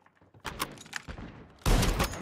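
Scattered bursts of gunfire in Call of Duty: Mobile battle royale, sharp cracks at first, then a dense, loud volley near the end.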